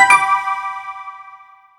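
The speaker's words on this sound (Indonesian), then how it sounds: "setelah mendengar suara notifikasi pesan" A single bright electronic chime from a phone announcing a new message, struck once and ringing out with a clear, bell-like tone that fades away over about two seconds.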